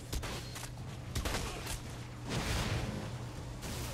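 Gunfire in the video game Saints Row: Gat out of Hell, a dense run of rapid shots with whooshing effects that swells louder midway and continues steadily to the end, without talk.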